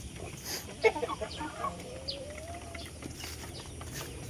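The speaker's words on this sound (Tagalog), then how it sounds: "Dito yung ating mga cobra chicken." Penned chickens cluck in a few short, scattered bursts nearby, with one drawn-out call, over a quiet outdoor background.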